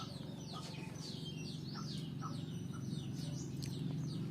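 Young crossbred chickens, hatched from a hen originally from Nan province, cluck and chirp repeatedly in a quiet steady stream over low background hum, fairly faint.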